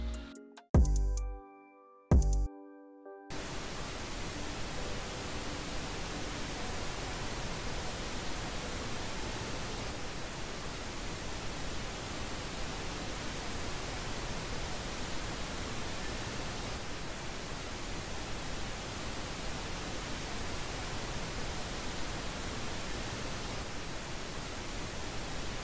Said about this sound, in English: So I'm just gonna bring up that pink noise till it hits one of those values.